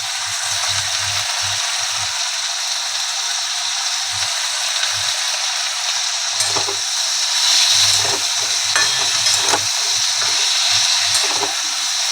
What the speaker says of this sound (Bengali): এটা একসাথে একটু ভেজে নেব